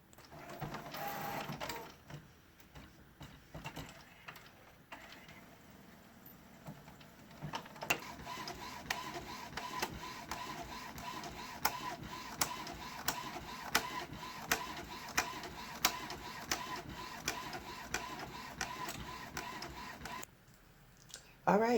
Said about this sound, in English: I'm going to go ahead and load this into my printer. I'm using an HP OfficeJet 8610.